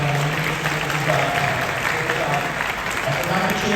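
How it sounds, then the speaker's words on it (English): A high school Christmas concert audience gives a brief round of applause, with continuous dense clapping throughout and voices faintly audible underneath. "again, a round of applause for Summer Galloway, our soloist on that"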